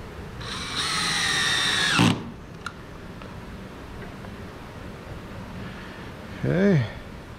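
A power drill whines in one sustained burst of about a second and a half, driving a 1-inch Kreg screw while building a night stand door, then goes quiet before a short spoken remark.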